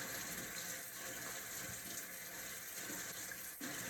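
A sink faucet runs steadily during a handwashing demonstration, the water hissing at a constant, moderate level close by with no talking.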